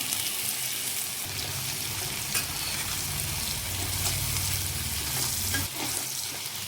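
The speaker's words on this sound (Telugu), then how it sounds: "తర్వాత స్టవ్ ఆన్ చేసి బాండీ పెట్టుకొని ఆయిల్ పోసుకొని ఇప్పుడు కాకరకాయ ముక్కలను అయితే దాంట్లో వేసుకొని ఫ్రై" Bitter gourd slices fry in hot oil in a pan for Telugu-style kakarakaya fry, giving a steady, close sizzle and crackle throughout, with occasional stirring scrapes and no talk.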